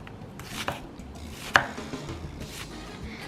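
Onions sliced on a board for caldo de res beef soup: a few sparse, soft knife cuts, one sharper than the rest, close by in a quiet kitchen.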